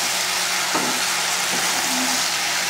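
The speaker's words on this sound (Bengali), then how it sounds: "এটা বেশ একটু ভাজা ভাজা মতন হলে এতে আমি জল দেবো," Fish curry frying in a pan at home, a dense loud continuous sizzle with brief faint stirring scrapes, and no talk.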